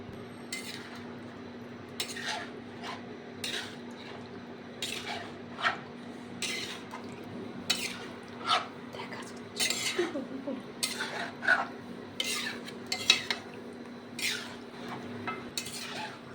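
Chicken rogan josh curry being stirred in a pot with a little added oil: repeated scraping and clinking of a utensil against metal in irregular strokes over a faint low hum, moderately quiet.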